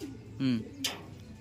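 Soft coos from resting racing pigeons, a short low throaty call then a brief rustle, faint against a quiet background with a murmur of voice.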